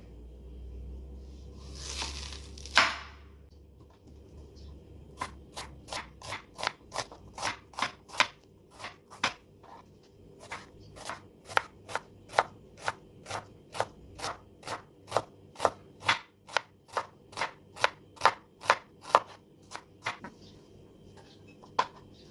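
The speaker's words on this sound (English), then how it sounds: "2 medium onions, finely diced" A knife dices onions on a board in a long run of crisp, evenly spaced chopping taps, close and clear, after a brief rustle at the start.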